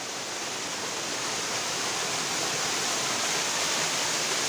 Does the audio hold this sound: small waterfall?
yes